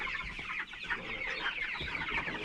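A flock of about 1,000 chickens out on pasture, clucking and chattering together as a dense, continuous murmur that sounds moderately close, with no talking.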